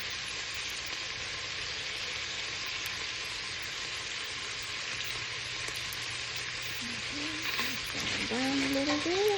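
Sausage for jambalaya sizzles and fries steadily in a pot, a loud continuous crackle that runs the whole time, with a brief voice near the end.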